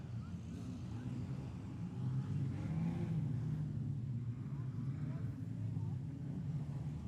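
Production sedan race cars roar around the dirt oval at Kingaroy Speedway, a steady loud engine drone holding throughout with a commentator talking over it.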